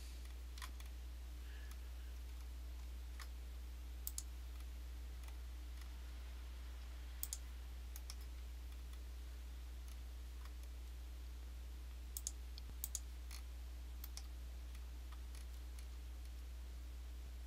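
Mouse clicks on a computer during CAD floor modelling, faint and sparse over a steady low hum, a few single and paired clicks spread out in an otherwise quiet room.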